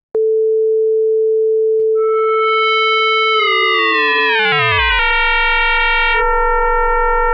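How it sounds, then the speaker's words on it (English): Electronic FM synthesis tones from a Flowstone software synthesizer: a pure steady sine tone that blooms into bright, shifting metallic overtones and a sliding downward sweep before settling into a buzzy, sustained chord-like drone. "this is where FM synthesis happens"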